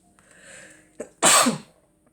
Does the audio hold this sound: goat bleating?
no